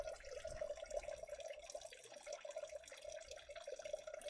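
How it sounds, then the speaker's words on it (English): Water trickles in a small goldfish fountain, a faint, close, continuous babbling with a steady watery tone and scattered drips. "this is a sound of the fountain of the goldfish"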